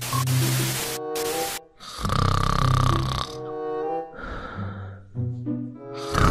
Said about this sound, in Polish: Jak on głośno chrapie.